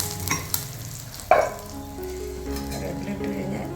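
Curry leaves hit hot oil already holding browned fenugreek and chillies, with a sharp burst of spitting crackle followed by a steady close sizzle, cooking for a jackfruit tamarind curry.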